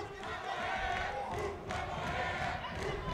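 Spectators at an MMA event in Perth roar and cheer from a distance, a continuous dense crowd din with rising shouts that swells and holds throughout.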